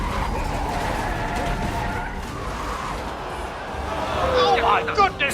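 Formula 1 cars of Senna and Prost colliding at a chicane: a broad engine roar and crowd wash give way to sharp tyre squeals and scraping skids near the end, loud and close, with a commentator talking over it.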